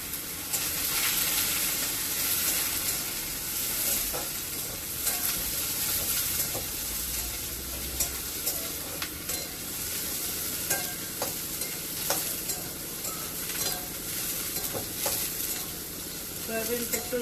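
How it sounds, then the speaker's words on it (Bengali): Soaked soybeans hit hot oil tempered with dried chilli and cumin, a loud sustained hissing sizzle with repeated scraping stirs and clicks of the spatula throughout. "তেল গরম হয়ে গেছে, শুকনো লঙ্কা আর জিরা ফোড়নে দিলাম। এখন ভিজানো সয়াবিনটা দিলাম।"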